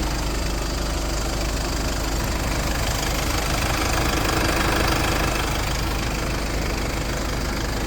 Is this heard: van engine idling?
yes